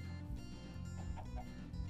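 Chickens clucking in Minecraft, soft blocky game fowl sounds repeating in short bursts over a steady background hum, fairly quiet and without talk.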